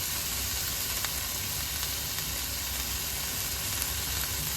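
A whole chopped tomato cooks down in a hot pan for vegan sloppy joes, giving a steady, even sizzle and frying hiss that runs unbroken throughout, close and moderately loud, with no speech.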